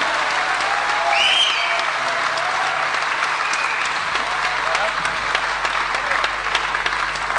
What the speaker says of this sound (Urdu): آپ اپنے مہمان کو پرزور تالیوں کے ساتھ بتائیں کہ کس طرح سے آپ نے پروگرام کو انجوائے کیا ہے